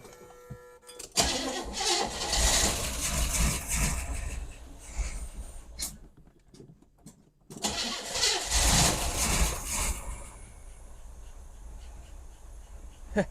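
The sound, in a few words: 1977 Pontiac Grand Prix engine idling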